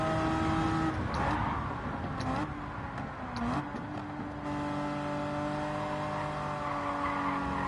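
A car engine in a driving video game holds near the rev limiter with a steady, buzzing high-rpm drone, briefly dipping and stuttering before settling back into a constant loud whine.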